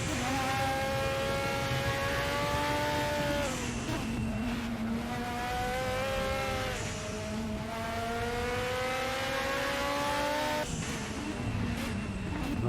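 Ford Capri race cars scream around Sonoma Raceway, loud engines rising and falling in pitch through repeated upshifts and downshifts as the cars pass close by.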